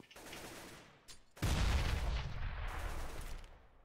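An AWP sniper rifle fires in Counter-Strike during a competitive match, one loud booming shot that rings out and decays over a couple of seconds after a softer crack just before it.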